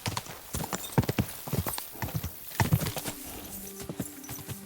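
Rapid hoofbeats clatter in uneven bursts from a galloping horse in the video game Kingdom Come: Deliverance II, with a sustained tone entering near the end.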